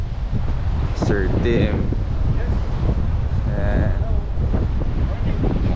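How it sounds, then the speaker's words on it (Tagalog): Strong wind buffets the microphone on a Philippine beachfront where overland rigs are parked, a steady loud roar throughout, with people talking briefly over it. "Sobrang lakas ng hangin."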